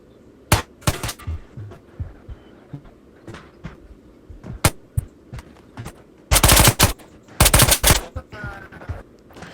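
MP5 submachine gun fire in the VR shooter Ghost of Tabor: scattered sharp single shots, then two loud sustained automatic bursts near the end, close and punchy over low game ambience.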